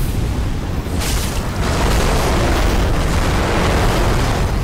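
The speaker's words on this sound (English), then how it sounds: "Watch out, he's gonna throw fire that way." Fire attack explosion in the Dark Souls Ringed City DLC, a loud, sustained booming roar with a rumbling low end that swells after the first second and holds steady, without talk.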